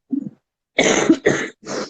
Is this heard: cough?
yes